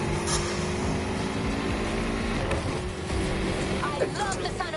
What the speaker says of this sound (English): I love the sound of this engine.